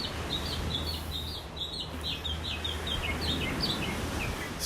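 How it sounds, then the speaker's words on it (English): Birds sing and chirp in a steady run of repeated high calls at a beach park in North Naples, Florida, with a low continuous hum and outdoor ambience beneath. "Listen to the birds."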